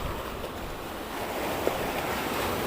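Surf washing onto the beach at Lam Teungoh, Aceh, at low tide: a steady, fairly close wash of broadband noise with light wind buffeting and no voices.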